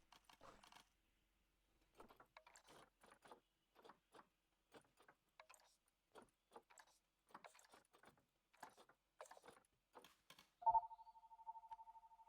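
A telephone bell rings in a zoo-building game, a single steady ring starting near the end after a run of quiet tapping and clicking sounds, with no voices.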